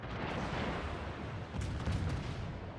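Warship guns firing into smoke in World of Warships, a dense rumbling barrage of booms blending into a continuous roar, loud and close throughout.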